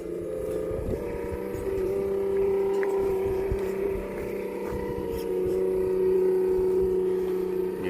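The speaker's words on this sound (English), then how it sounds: "sounds like it's revving in high there" Small RC car motor whining at high revs during a late-night run, a steady sustained drone that holds level with slight pitch shifts, close by.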